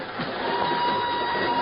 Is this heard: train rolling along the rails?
yes